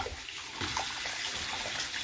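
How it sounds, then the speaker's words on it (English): Water pipes refilling under a sink after an old valve was replaced with a Sharkbite quarter-turn valve, steady rushing flow broken by small sputtering bursts of trapped air. "Little bursts of air in the pipe. All the pipes are filling back up."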